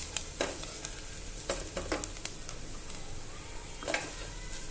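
Red chilli powder, asafoetida, turmeric and byadgi chilli powder are stirred into hot oil for a bitter gourd dish. A soft continuous sizzle runs beneath repeated spoon scrapes and taps on the pan, close and fairly quiet.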